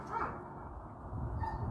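A puppy in a training session gives brief, high whimpering yips at the start and again near the end, over a steady low rumble of background noise; no one speaks.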